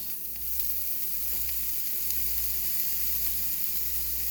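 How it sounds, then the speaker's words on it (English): Steady, loud sizzling of ground beef and onions frying in a hot pan, a continuous crackling hiss with no talking. "I hope you can hear the sizzle"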